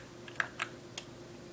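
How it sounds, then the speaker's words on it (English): A computer keyboard is tapped one-handed, giving three or four sparse, soft key clicks with uneven gaps over a quiet background hum, no voices. "Sorry, I'm typing with one hand."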